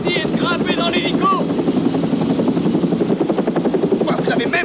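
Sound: helicopter in a film

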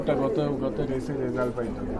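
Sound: racing pigeons cooing

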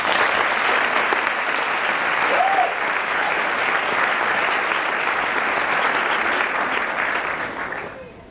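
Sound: audience round of applause at a pageant

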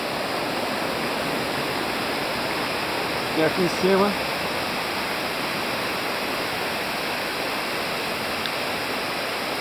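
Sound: waterfall Cachoeira Alta flowing

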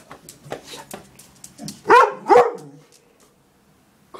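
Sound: dog barking

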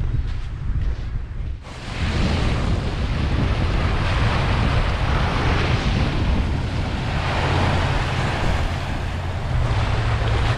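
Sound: waves on the shore at a beach in Biloxi, Mississippi

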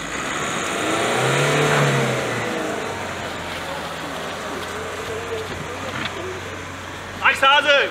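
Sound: car engine revving while stuck in snow

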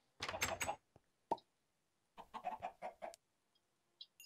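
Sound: chickens clucking in a video game

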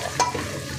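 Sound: tempering spices sizzling in pan

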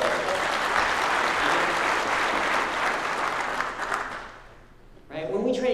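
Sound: audience applause

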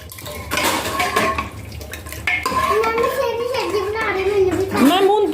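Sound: dishes and utensils being handled

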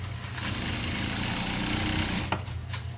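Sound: sewing machine sewing a seam

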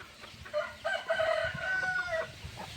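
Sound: hen chicken clucking

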